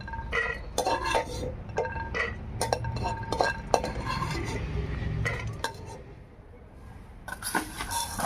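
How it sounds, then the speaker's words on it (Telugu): Peanuts roasting in a pan and stirred, rattling and scraping in bursts of clinks and rustles against the metal, close and busy with brief pauses. "ఇందు చెనక్కాయ పప్పు వేపుకుందామండి"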